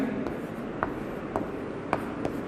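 Pen or chalk writing out a math question in a Class 10 lesson: faint scratchy strokes and light taps in an uneven rhythm, set against a soft room background.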